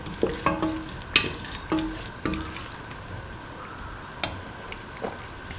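A spoon stirs a sizzling mint, egg and potato mixture in a pan, making irregular scrapes and clicks over a faint, steady frying hiss, heard up close.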